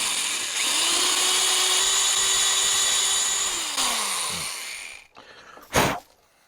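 Power drill boring out rusted-in jaw holes on a Wilton Bullet vise: a steady, close, high whine for about five seconds that winds down and stops, followed by a brief clunk.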